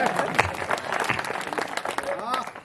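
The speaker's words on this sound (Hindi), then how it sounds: "ताली बजाओ।" A crowd at an overnight village Hindi poetry gathering claps and applauds in a brief burst, with irregular claps under a speaking voice and crowd noise.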